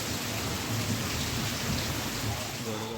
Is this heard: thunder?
yes